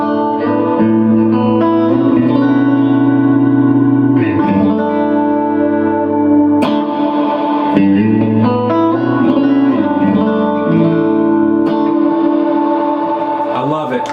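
An electric guitar runs through a chain of effects pedals, sustained chords swelling with heavy reverb, echo and distortion into a huge, continuous wall of sound, with new strums breaking in every few seconds.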